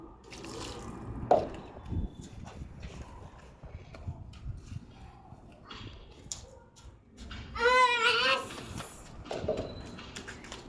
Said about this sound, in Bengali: জল ঢেলে দে।